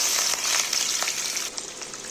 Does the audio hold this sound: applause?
no